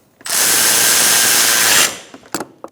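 A power tool whirs for about a second and a half, driving air box bolts on a 2012-2017 Hyundai Accent 1.6L with a 10mm socket and extension, loud and close, followed by a few metallic clicks.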